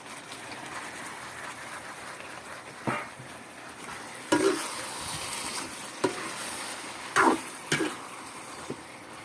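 Chicken frying in a pan, a quiet steady sizzle punctuated by a few sharp clanks and scrapes of a utensil against the pan.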